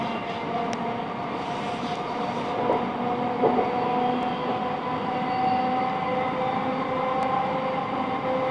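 A South Western Railway Class 707 electric train running on the line toward Chessington South, a steady continuous interior rumble with a constant motor hum and faint rail clicks, no talk.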